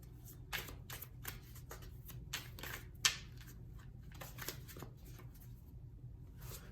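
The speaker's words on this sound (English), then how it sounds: "Feeling a hard shuffle for the rest of these cards." Tarot cards riffled and shuffled in quick repeated bursts, crisp and close, with a sharp snap partway through and no talking.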